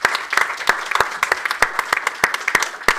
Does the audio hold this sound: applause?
yes